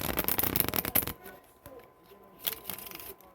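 A quick riffle shuffle of playing cards, a dense fluttering burst of card flicks lasting about a second, followed by softer taps and rustles of the deck.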